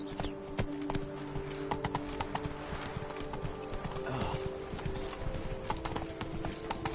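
Roach, the horse in The Witcher 3: Wild Hunt, gallops in a rapid, steady clip-clop of hooves over game music and ambience, close and continuous for several seconds.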